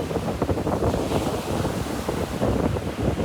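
Rough sea surf with big waves off a Carnival Sunshine cruise stop, crashing and washing loudly and close, mixed with gusty wind buffeting the microphone, no voices.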